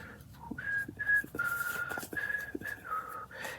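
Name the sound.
person whistling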